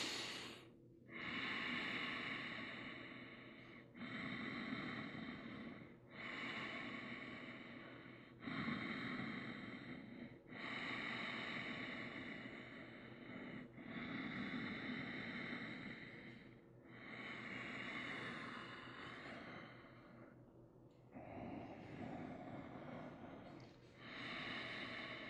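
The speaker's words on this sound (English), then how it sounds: "Close your eyes, few breaths here." Slow, steady breathing during a yoga class in firelog pose, each long inhale and exhale running several seconds with brief pauses between, close and fairly loud, with no talking.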